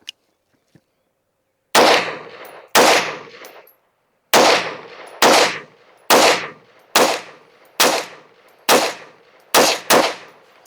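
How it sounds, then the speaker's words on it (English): A string of loud gunshots from a Monstrum Raider X1 fired at a target, roughly ten sharp cracks in uneven rhythm, each with a short decaying echo, heard alone after a brief quiet start. "let's shoot another group at the bottom right target."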